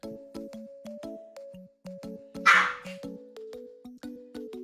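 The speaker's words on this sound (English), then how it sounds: "Why are you still barking? I gave you a treat." A dog barks in a steady run of sharp, close, evenly spaced barks indoors, with one louder burst midway and no talking.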